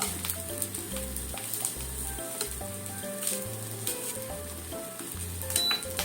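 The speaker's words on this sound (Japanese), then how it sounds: "こっちの半分でネギを焼いて、こちら側の半分で揚げを焼いていきましょう。" Green onions and fried tofu pouches (abura-age) searing side by side in a large frying pan, giving a steady close sizzle with occasional utensil clinks and light stirring, and no talking.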